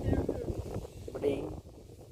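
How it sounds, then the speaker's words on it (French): Wind blows outdoors beside a barbecue being worked on, giving a low, rumbling buffet against the microphone under someone speaking French. "Là il y a un peu de vent."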